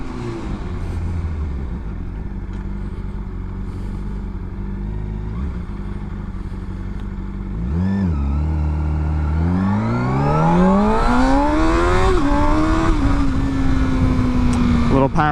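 A rebuilt Honda CBR600RR motorcycle idles and burbles up close, then revs hard and climbs steadily in pitch as it pulls through a gear, ending in a loud sustained engine whine.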